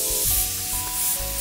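An Iwata Neo CN airbrush sprays Createx white paint at about 30 pounds of air pressure, giving a continuous close hiss with faint tonal hum beneath.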